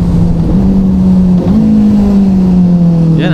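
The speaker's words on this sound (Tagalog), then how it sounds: "Yan ang downshift." A big-bike motorcycle engine downshifts on a ride near Tagaytay. A loud, steady drone with wind rush briefly dips and then climbs back to a higher pitch, holding close and continuous throughout.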